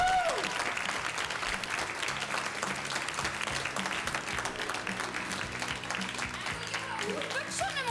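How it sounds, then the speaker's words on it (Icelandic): An audience at a televised Icelandic Red Nose Day charity event breaks into loud, sustained applause and cheering that fills the room steadily, with an announcer's voice carrying over the crowd. "Og ég heyra brjáluð fagnaðaræti!"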